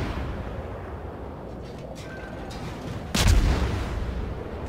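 Naval gunfire in World of Warships as high-explosive shells are fired at the player's ship: a heavy low boom of impacts bursts in partway through over a constant rumbling battle backdrop, then trails off.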